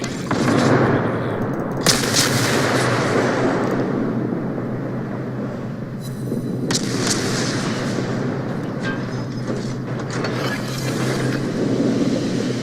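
Naval guns fire in a World of Warships battle, with booming shots over a constant roar of engine and sea ambience. A few sharper blasts stand out.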